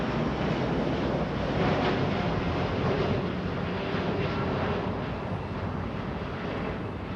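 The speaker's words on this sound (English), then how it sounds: "Dreamliner flying to Santiago, Chile. 787 Dreamliner, 787-8." A Boeing 787-8 Dreamliner airliner takes off from LAX, a loud, rushing jet roar with wind-like broadband noise that swells slightly and then eases, steady throughout.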